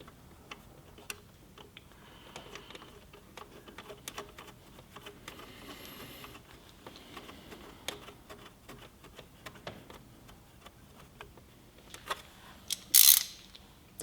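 Oil drain plug being screwed back into a Predator 3500 inverter generator, a run of faint small metallic ticks and clicks with a brief louder rattle near the end, no talking.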